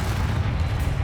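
A Bombarda spell blast in Hogwarts Legacy, a heavy low rumbling boom that fills the whole brief moment, loud and sustained with no voice over it.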